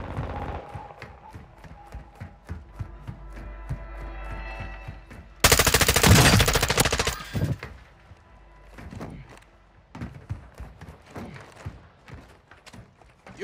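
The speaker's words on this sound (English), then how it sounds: "You are taking effective fire." Call of Duty gunfire: scattered rapid shots and footstep-like clicks, then a loud sustained machine-gun burst for about two seconds, followed by further sporadic shots.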